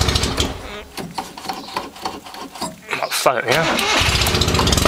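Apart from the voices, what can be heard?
small engine starting and running with straight pipe exhaust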